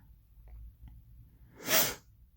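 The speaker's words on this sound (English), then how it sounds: "I didn't mean to sniff in your ear" A person sniffs once sharply and close to the microphone at a crafting table, preceded by a few faint small handling taps in an otherwise quiet room.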